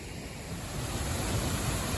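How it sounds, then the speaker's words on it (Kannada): A small monsoon waterfall inside a plantation in the Malenadu hills makes a steady, even rush of falling water, close and fairly loud, with no voices over it. "ಇವಾಗ ನೋಡಿ ನಮ್ ತೋಟದ ಫಾಲ್ಸ್ ಹೆಂಗಿದೆ"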